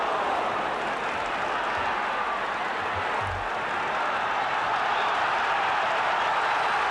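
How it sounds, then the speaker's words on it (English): Football crowd at a 1984 match, a steady broad roar of thousands of spectators that swells slightly midway, continuous and distant-sounding throughout. "And the crowd lifted by the early run from Walker"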